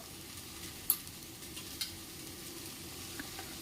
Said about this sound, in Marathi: याला मिक्स करून घेऊया. व्यवस्थित असं मिक्स करून घ्यायचं.